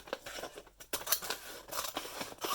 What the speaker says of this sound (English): And then I go inside and I'm going to cut down this fold.